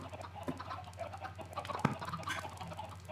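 Minecraft chickens in an egg farm clucking, with a few soft repeated clucks over a low steady hum, quiet and close.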